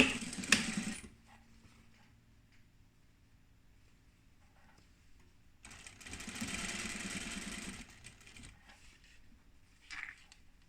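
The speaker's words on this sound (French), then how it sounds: "je vais piquer dans la couture du tissu extérieur pour maintenir les deux épaisseurs ensemble." A sewing machine stitches through two layers of fabric along the seam of a protective fabric mask, with two separate bursts of steady rapid whirring and quiet pauses between them.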